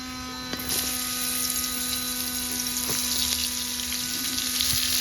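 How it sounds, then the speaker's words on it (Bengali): Pieces of pointed gourd (potol) fry in oil, a continuous close hiss and sizzle with a faint steady hum underneath and occasional soft pops, no one talking. "তেলের মধ্যে পটলগুলো ভেজে নেব"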